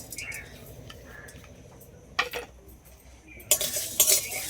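Dried red chillies, cardamom, cloves, cinnamon, garam masala and whole coriander go into a hot kadai and are stirred. Soft scrapes and clinks of a spoon against the pan come with light sizzling bursts, close and fairly quiet.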